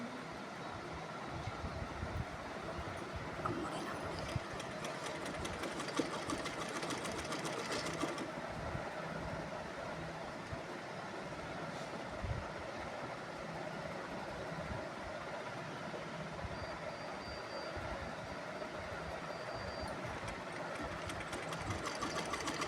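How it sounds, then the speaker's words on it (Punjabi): A sewing machine stitches lace onto the hem of a salwar, a continuous rapid mechanical chatter that stays soft and even throughout with no talking. "ਕੋਨੇ ਕੋਨੇ ਤੇ ਸਲਾਈ ਲਾਉਣੀ ਹੈ ਜੀ ਆਪਾਂ ਨੇ ਜ਼ਿਆਦਾ ਲੈਸ ਵਿੱਚ ਨਹੀਂ ਦੇਣੀ ਹੈਗੀ"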